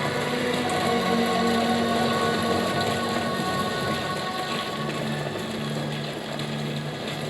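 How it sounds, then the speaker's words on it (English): Steady, dense rainfall from the video game Death Stranding 2: On the Beach pours without pause, a loud, even hiss of drops with faint low rumbles underneath. "never a break in the rain"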